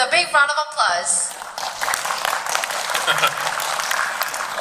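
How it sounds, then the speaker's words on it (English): A conference audience at a blockchain talk breaks into a loud, sustained round of applause to welcome the next speaker. A voice comes first, then dense clapping fills the room until the end. "let's welcome Evident Proof with a big round of applause"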